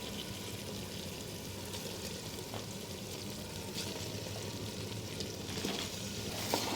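Chicken legs fry in a pan with spices and tomato for chicken pulao, giving a steady, soft, continuous sizzle with a few faint scrapes and clinks near the end.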